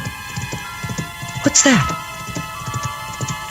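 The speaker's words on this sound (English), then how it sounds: "Somebody riding a horse." A horse being ridden, with soft clip-clopping hooves at a distance under a quiet nighttime radio-drama scene, a short whinny-like cry in the middle and a person speaking briefly.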